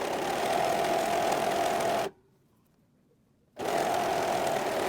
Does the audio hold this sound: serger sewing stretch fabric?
yes